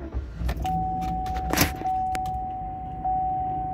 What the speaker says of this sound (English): Let's go ahead and start it up here.